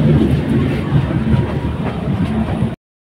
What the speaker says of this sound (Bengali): ট্রেন এখন চলছে পুরো ঝড়ের গতিতে